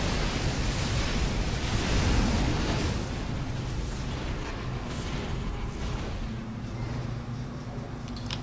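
A StarCraft II Nexus Cannon blasts a Terran Medevac, a dense, loud rumbling explosion with crackling bursts that swells around two seconds, then settles into a steady roaring wash of battle noise.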